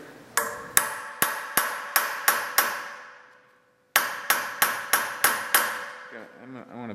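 Hammer striking a screw extractor in metal, two bursts of about seven sharp, ringing metallic blows at an even rhythm, each with a short ring-out, separated by a brief quiet pause.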